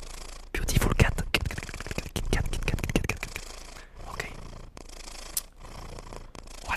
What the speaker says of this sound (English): Respiration of cat